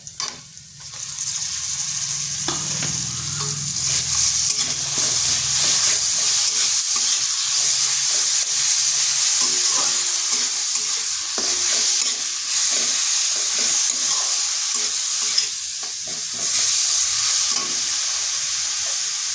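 Cauliflower stalks fry over medium-low heat with fried onion, garlic and salt, a continuous close sizzle broken by frequent stirring scrapes and clatter, with no talking.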